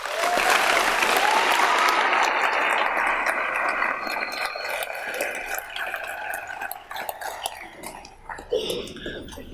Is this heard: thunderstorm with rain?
no